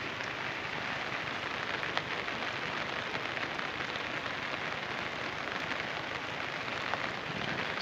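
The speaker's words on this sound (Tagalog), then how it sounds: "Sobra ng lakas ng ulan mga ka-alarm." Heavy rain pours steadily onto a surface near a flooding creek, a dense, continuous hiss with no pauses, loud and close throughout.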